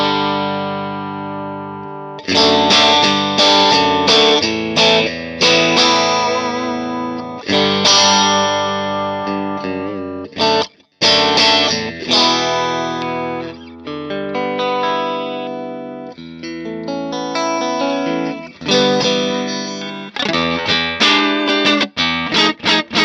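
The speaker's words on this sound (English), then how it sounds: "here's the Bassman into the gold vintage 30 cab." An electric guitar played through a Bassman amp into a gold Vintage 30 cabinet, mic'd up: loud, driven chords and single-note riffs with sharp attacks and ringing sustain, one brief pause midway, no talking.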